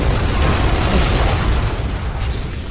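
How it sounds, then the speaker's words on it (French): A loud, sustained film explosion roar, a dense rumbling blast that fills the sound and fades slightly toward the end. "Explosion de méchant"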